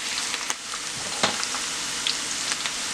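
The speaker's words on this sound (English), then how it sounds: "put your fresh onion in there. Stir it for 2 minutes." Fresh onion frying in hot palm oil for a spicy fish stew, a continuous close sizzle with a few scraping stirs of a spoon, no talking.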